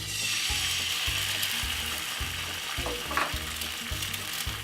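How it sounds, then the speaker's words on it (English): An egg sizzles steadily in a frying pan, a dense continuous crackle with faint scraping and ticking sounds mixed in, close and fairly loud, with no voices. "So as you can see, I just fried an egg."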